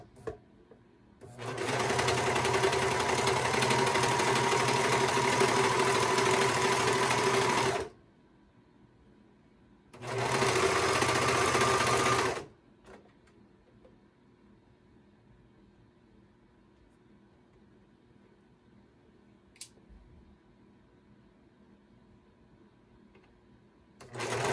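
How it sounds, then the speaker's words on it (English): A serger overlocker stitches the bottom band onto a lace-overlay cardigan with a 3/8-inch seam allowance, running in two steady, loud whirring bursts, one long and one short, separated by quiet. "we're just going to go ahead and serge this bottom band on"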